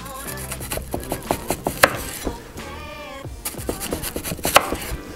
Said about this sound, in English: I'm gonna show you exactly how you're gonna dice this onion.